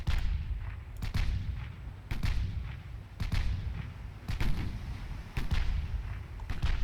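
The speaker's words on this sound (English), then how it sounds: "surely you can fire the rear turrets as well" Warship turrets fire in the naval game Ultimate Admiral Dreadnoughts, sending out six or so heavy booming salvos at roughly one-second intervals over a constant low rumble, with no voices.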